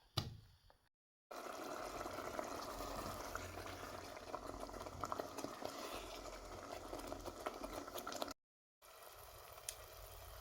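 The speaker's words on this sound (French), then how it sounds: "je vais laisser la pâte cuire à feu moyen jusqu'à ce qu'il n'y ait plus d'eau sur le dessus" Paste simmering in a pot over medium heat until the water on top cooks off and only oil rises, giving a steady, close bubbling hiss that runs continuously apart from two brief silent gaps.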